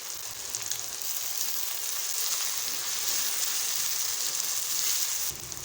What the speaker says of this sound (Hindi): टमाटरों को प्याज़ों के साथ अच्छे से फ्राई करेंगे।